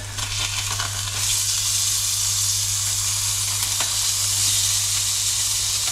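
Red mullet frying in a pan gives off a loud, steady sizzle, a dense hiss with faint crackles and a low hum beneath, close up and continuous with no talk.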